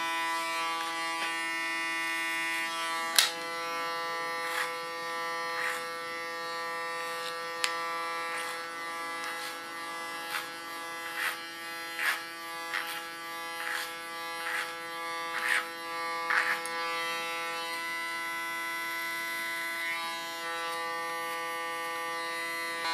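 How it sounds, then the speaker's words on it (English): Electric hair clippers buzz steadily and close up with a tonal whine while cutting hair, with repeated short louder bursts as the blade moves through the hair. "Use my clipper as a comb again."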